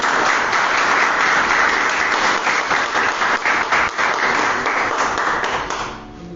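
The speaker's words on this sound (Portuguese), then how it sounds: "Você que pode dar uma linda salva de palmas ao Senhor" A church congregation applauds for the Lord during a Portuguese-language sermon, a dense, steady roar of many hands clapping close and loud, tapering off near the end.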